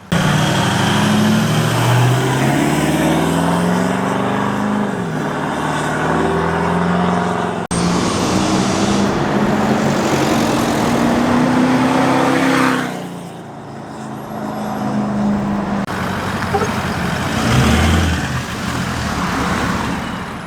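Toyota Land Cruiser 200 series with an aftermarket exhaust, a loud steady engine drone with rising and falling tones as it revs and shifts through gears, close and continuous, easing briefly before building again.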